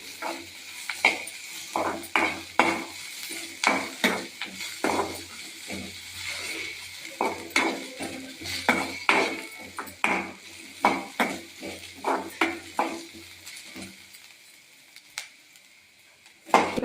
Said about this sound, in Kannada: ಹಸಿಮೆಣಸಿನ್ಕಾಯಿ ಹಾಕಿ ಇದನ್ನು ಫ್ರೈ ಮಾಡ್ಕೊತಿದ್ದೀನಿ